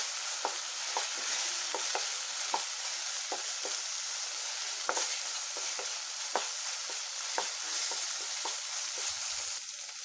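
Masala for a paneer coconut milk gravy frying in a pan with a little added water, giving a steady close sizzle broken by repeated sharp clicks and scrapes of stirring, with no voices.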